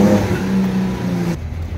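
Chevrolet Opala six-cylinder engine with a Weber 40 carburettor, running on ethanol, holds a loud, steady throb close by, then its tone drops sharply near the end as the revs fall away.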